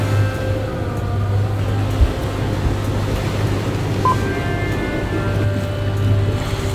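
Steady ocean wash around a sailboat far out at sea, a continuous broad hiss of waves and wind with a low hum underneath and no voices.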